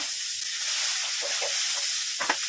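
Onion and ginger sizzle in a small amount of oil in a home pan, a steady bright hiss with a few soft stirring knocks near the end, close and alone with no talking.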